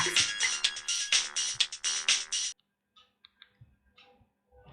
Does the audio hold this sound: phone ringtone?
yes